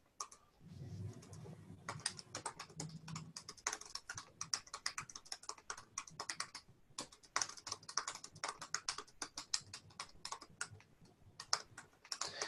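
Fast, continuous typing on a computer keyboard, a dense stream of light key clicks with brief pauses, close and fairly quiet.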